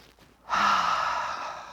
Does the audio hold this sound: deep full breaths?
yes